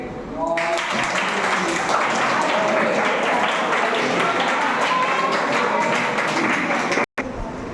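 Students at a residential summer camp break into sustained group applause, a dense wash of clapping hands that starts abruptly and continues steadily for several seconds before a brief cutoff near the end.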